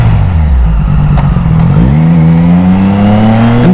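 A Triumph Daytona 660 motorcycle with a leaking exhaust roars loud and close. Its engine note dips during a downshift and then climbs steadily as the revs rise.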